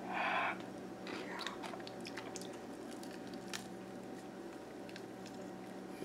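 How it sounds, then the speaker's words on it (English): Chewing a bite of freshly cooked, hot squirrel meat, with soft wet squishing and biting sounds close to the mic over a steady low background hum. "let me taste another bite because I forgot what it tastes like"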